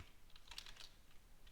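Quiet, close typing on a computer keyboard while coding in Python with pandas, a light run of key clicks clustered in the middle.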